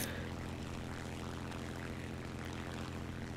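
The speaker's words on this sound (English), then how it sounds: "I can see the prop slowing down" The propeller engine of a P-26 fighter in the combat flight game War Thunder drones steadily as it dies and winds down, a low, even hum with no voices over it.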